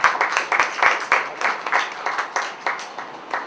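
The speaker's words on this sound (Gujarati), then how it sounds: "આપણે સૌ એમને તાળીઓ વગાડીશું." An audience at a Gujarati literary lecture on the poet Kant applauds as the speakers come to the stage, producing a close, steady patter of many hands clapping that continues throughout.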